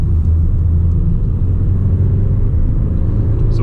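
A 2019 Mercedes A-Class AMG Line in sport mode accelerates on an uphill mountain road to overtake, giving a loud, steady, low engine and road rumble from inside the cabin with no voices.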